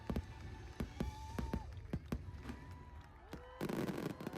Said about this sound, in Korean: 마지막으로 매직 킹덤 파크의 하이라이트인 해필리 에버 애프터는 저녁에 진행되는 불꽃놀이 쇼입니다.